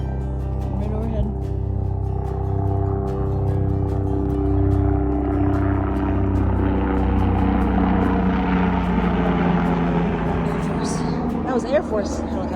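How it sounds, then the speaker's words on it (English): An Air Force helicopter flies close overhead, its engine and rotor making a loud, steady, rumbling drone that shifts in pitch as it passes, with a few faint voice sounds near the end. "That was Air Force helicopter."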